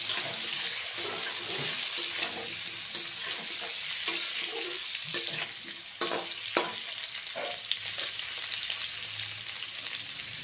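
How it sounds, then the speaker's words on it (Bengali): Boiled potato and pointed gourd fry lightly in a pan with a steady low sizzle, punctuated by repeated close spatula scrapes and knocks as the pieces are turned. "আলু কাঁকরোলটাও বয়েল করা হয়ে গেছে, এখন অল্প ভেজে নেব"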